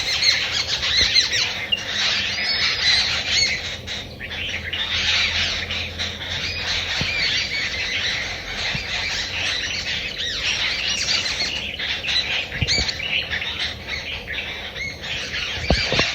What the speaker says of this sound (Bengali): তো অনেক ভালো লাগছিল এই পাখির কিচিরমিচির শুনতে।